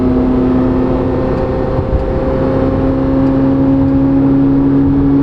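A twin-turbo Chevrolet Corvette C8 Z06 engine drones loudly and close at a steady, sustained pitch under acceleration, with a thick rumble throughout and no speech.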